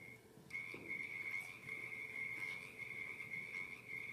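Frogs call in a steady, sustained high trill, moderately loud and continuous over faint outdoor background, with no voices.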